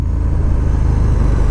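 A 2019 KTM 1290 Super Duke R motorcycle engine running close by, a loud, steady low rumble with a dense throbbing pulse and no variation in pitch, with no talk over it.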